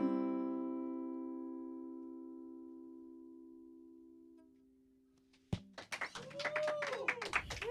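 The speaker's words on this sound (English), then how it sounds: "I appreciate the applause" Live audience applause in a lounge after a sung song, beginning abruptly once the final held note decays, with dense, close clapping building into a steady crowd ovation.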